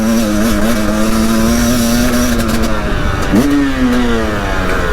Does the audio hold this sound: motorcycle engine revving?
yes